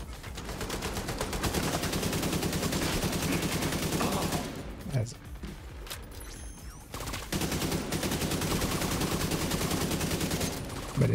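Rapid continuous weapon fire from an ordinary gun in a video game, a dense machine-gun-like rattle that pauses briefly in the middle and then resumes, loud and close.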